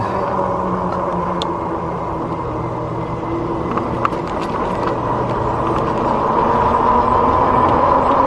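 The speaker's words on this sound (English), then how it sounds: "Somebody else asked me the whining from my bike that you hear. Yeah, that's the tires." A steady, high tire whine from an e-bike being ridden, continuous and fairly loud against a broad hum of wind and road noise, with no talking.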